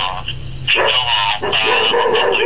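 A dog barks and yips in short bursts close by, mixed with people talking over the noise.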